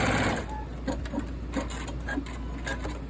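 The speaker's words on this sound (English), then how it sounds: "And then you sew straight across, corner to corner." A sewing machine stitches binding strips straight across corner to corner, a steady rapid mechanical whirring with rhythmic clicks, close and moderately loud.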